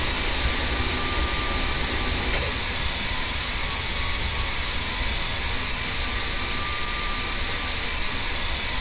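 Two small aircraft engines on a craft in the game Kerbal Space Program, a constant droning jet-like roar that stays even throughout, with a faint high whine and no voices.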